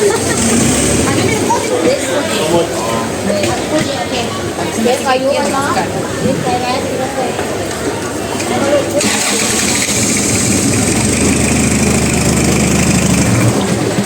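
Boat engines at the Damnoen Saduak floating market in Thailand, fitted with car engines, drone steadily through the whole stretch, with a steady idle and a rising engine note toward the end, under ongoing talk from nearby people.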